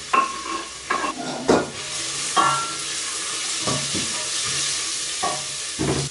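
Fennel cut into strips sizzles steadily in a pan for risotto, with several bursts of stirring and scraping from a utensil over a constant close frying hiss.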